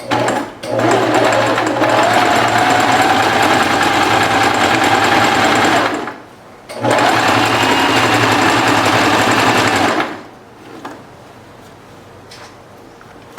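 Sewing machine stitching fabric for a garment, loud and close: a sustained motor whine for about five seconds, a brief pause, then another long run before stopping into quiet.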